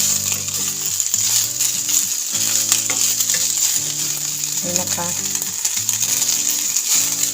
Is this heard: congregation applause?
no